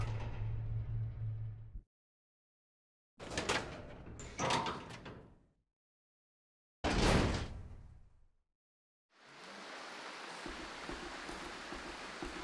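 A door in the Resident Evil 0 video game opens with heavy sliding, scraping bursts separated by silence, loud and close, followed by a broad rushing wash like water, with no talk.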